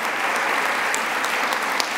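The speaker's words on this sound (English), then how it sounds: "a round of applause" Dense, steady audience applause at an event celebrating Let's Move Active Schools, a close, even wash of many clapping hands lasting two seconds with no talk over it.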